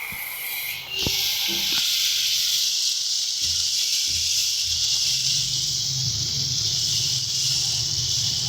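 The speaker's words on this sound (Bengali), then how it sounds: "এবারে দিয়ে দেবো টমেটোর পেস্টটা।" Tomato paste hits hot frying spices in a pan with a sudden loud, hissing sizzle that then holds steady and bright, with a few low clunks underneath and no talking.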